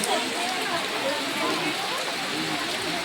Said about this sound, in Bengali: খুব জোরে বৃষ্টিটা হচ্ছে।